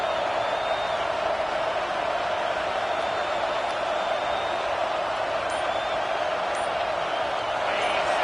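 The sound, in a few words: crowd roaring in a football video game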